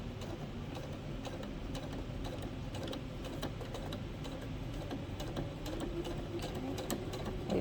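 A sewing machine stitching leg elastic into a Blueberry Simplex all-in-one cloth diaper, a fast steady mechanical clatter running continuously at low volume.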